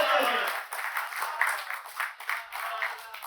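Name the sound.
clapping from two audience members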